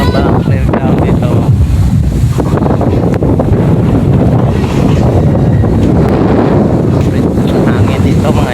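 Loud, heavy wind buffets the microphone in continuous rumbling gusts, with muffled voices faintly underneath.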